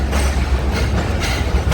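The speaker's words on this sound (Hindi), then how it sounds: "हमारी train Lahore junction railway station पे अराइवल कर रही है प्लेटफॉर्म 4 पे" An economy class Allama Iqbal Express train pulls into platform 4 at Lahore Junction railway station, heard from on board as a loud, steady rumble of wheels and carriages with faint rhythmic rail clatter and no talking.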